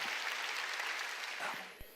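Congregation clapping together during a Korean church sermon, a dense sustained wash of applause that carries steadily before tapering off, with one sharp low thump near the end.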